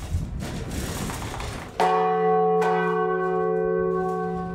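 A historic church bell cast in 1504 rings in its tower, one clear struck tone with a long ringing hum, struck again after a moment, heard alone and fairly close.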